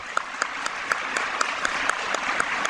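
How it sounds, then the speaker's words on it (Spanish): A congregation at a religious conference applauds, a steady round of clapping with distinct individual claps sustained evenly throughout the short burst. "Un aplauso para ella."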